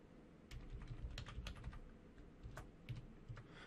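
Keys clatter on a computer keyboard as a password is typed during an Outlook 2013 account setup, a quiet run of quick irregular taps lasting a few seconds with no voices.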